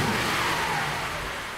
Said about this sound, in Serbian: Ključ u bravi i zvuk pokretanja motora otvaraju vrata istorije.